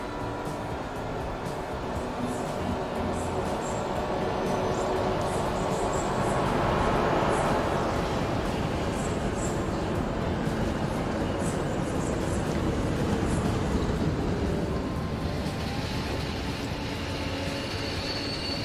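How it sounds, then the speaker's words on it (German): A freight train in the video game Transport Fever 2 rolls past in a steady, loud rumble of wagons and rails, with faint wheel squeal and clatter building midway, continuous throughout with no voices. "Und da kommt einer der Züge, der hier Rohstoffe liefert und Waren auch abholt."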